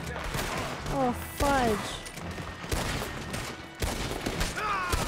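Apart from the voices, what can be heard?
gunshots in the video game Red Dead Redemption 2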